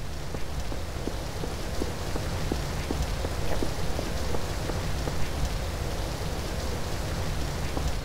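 Steady rain in a video game hisses throughout, with faint regular drip-like ticks scattered over the wash of noise; no voices.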